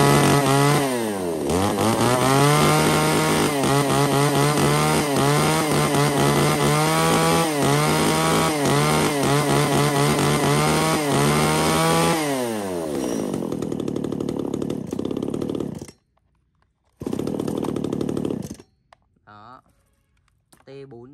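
A used Japanese chainsaw cuts wood logs about 20 cm across, its engine loud and close and revving in a steady high whine for about twelve seconds. It then drops to a rough idle and cuts out, followed by brief bursts of handling noise.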